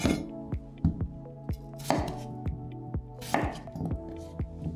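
Bentong ginger being sliced thinly on a cutting board, with a steady run of crisp knife taps at close range, about two chops per second, with a few louder knocks.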